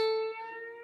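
A single plucked electric guitar note, a string bend played without finger reinforcement, rings out clearly, sustaining steadily and fading slightly over under a second, alone with no talking.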